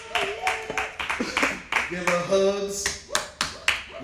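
A woman claps her hands in a short run of sharp claps at an uneven pace, close by, while people talk over and between the claps.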